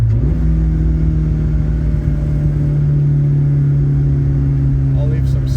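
A Toyota AE86 GTS with a Haltech tune pulls hard under acceleration while driving, its engine a loud, steady drone with a rising tone held close throughout.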